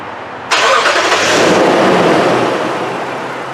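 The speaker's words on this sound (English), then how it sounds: "I will start the engine right now" A car with a new battery and new alternator cranks and fires with a sudden loud catch, then settles into a steady idle that slowly eases in loudness.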